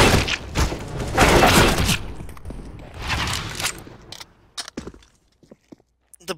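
Counter-Strike gunfire: a string of sharp shots in dense bursts over the first four seconds, followed by a few isolated cracks and clicks that trail off into near silence.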